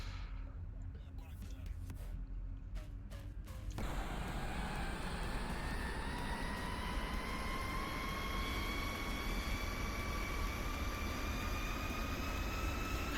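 Zibo 737 jet engines in the X-Plane 11 simulator spool up while taxiing, a steady broad roar with rising whine tones that climbs slowly and holds, following a quieter stretch of clicks.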